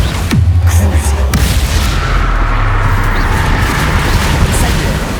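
Explosive Bombarda and Confringo spells in Hogwarts Legacy, sharp booming blasts at the start followed by a loud, sustained roaring rumble of combat noise.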